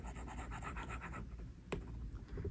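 A stylus colors on a digital drawing tablet in short, close scratchy strokes that repeat rapidly, then a single sharper tap before the strokes resume, quiet and alone.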